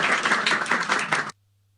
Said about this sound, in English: Let us give them a round of applause to the fathers and sisters who are seated there